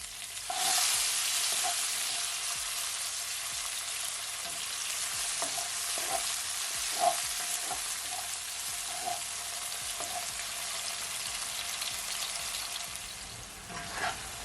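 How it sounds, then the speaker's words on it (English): Scallion and scotch bonnet pepper sauté in a pan, a continuous hissing sizzle with faint periodic stirring taps and occasional light crackles, nobody speaking. "I'm gonna add it all. And you're just gonna allow it to saute, guys, for at least 30 seconds"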